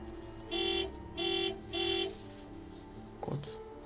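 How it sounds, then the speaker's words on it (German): Three evenly spaced honks of a car horn in the game Lost Night, each loud and steady for about a third of a second, followed by a short clunk. "Kann man noch ein bisschen hupen."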